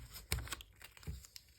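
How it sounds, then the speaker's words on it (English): A small strip is ripped off a roll of tape in quiet indoor surroundings. Two quick, sharp tearing bursts are separated by a short pause, close and soft. "So we're going to take the tape, rip a little piece off"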